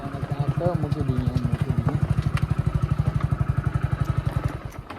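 A motorcycle engine thuds in a steady rapid rhythm, loud and close, running evenly throughout with a few faint background sounds.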